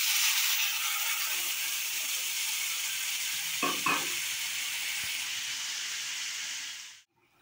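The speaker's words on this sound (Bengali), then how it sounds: "মশলাটা ভাজা ভাজা হয়ে গেছে" Masala spices sizzle steadily in a hot pan for a katla fish curry, with a close, continuous frying hiss, a couple of brief stirring scrapes midway, and the sound cutting off near the end.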